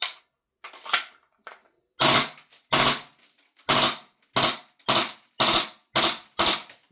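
Krytac Maxim 9 gas blowback airsoft pistol firing short bursts: a few single cracks, then seven sharp, loud clustered bursts at a steady, near rhythm with no talk.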